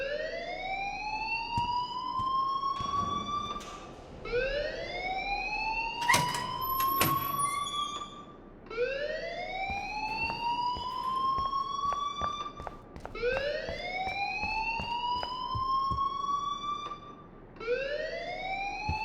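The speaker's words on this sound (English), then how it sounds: "please turn off that alarm since that's your job" Fire alarm in the video game Life is Strange, a loud rising electronic whoop repeating every few seconds in a steady cycle, with scattered clicks and thumps between sweeps.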